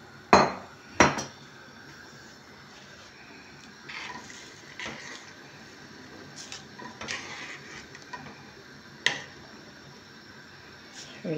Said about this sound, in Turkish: Şöyle suyu verdikten sonra dibi tutmasın diye bir güzel karıştırıyoruz.